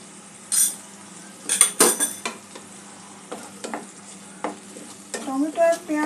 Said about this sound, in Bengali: পেঁয়াজ আদা টমেটোটা ভালো করে একটু কষে নেব।